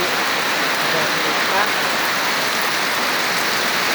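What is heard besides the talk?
heavy rain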